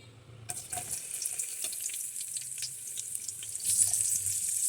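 Onion hits hot red palm oil in a pot and bursts into a loud, steady sizzle that rises after a short silence and keeps hissing evenly.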